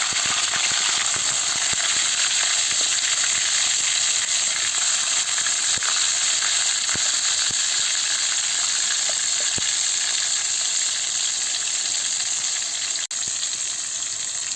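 Cabbage frying in hot oil for a poppy-seed cabbage curry gives a steady, loud, close sizzle and hiss that runs unbroken from start to finish, with no talking.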